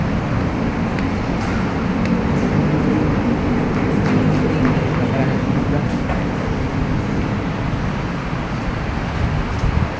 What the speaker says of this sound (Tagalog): Ayun ito yung MRT na yan.